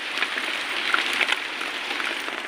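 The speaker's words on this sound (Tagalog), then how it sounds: "Lagi na lang ulan." Rain falls steadily with a soft, even hiss and scattered drops pattering close by.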